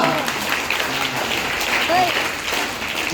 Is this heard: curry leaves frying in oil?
no